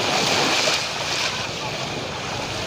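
Sea surf rolling in at Jomtien beach, a steady broadband wash of waves with some wind noise against the microphone, fairly loud and continuous, with no talk.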